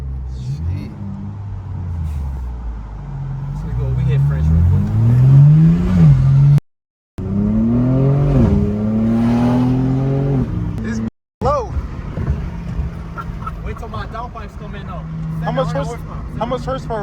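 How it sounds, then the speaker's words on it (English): A Jeep Grand Cherokee Trackhawk's supercharged engine drones and rises through the gears while driving, with sweeping whine and revs climbing, a couple of abrupt cutouts, and people talking inside the cabin. "Turbo's loud as hell in this."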